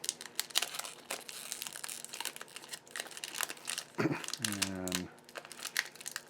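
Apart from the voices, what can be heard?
ripping open 1990s Topps baseball card pack wrappers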